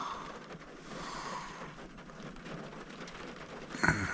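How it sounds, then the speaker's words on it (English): Soft, steady rain patter on a VW T4 camper van at low volume, with a brief louder knock near the end. "Still raining."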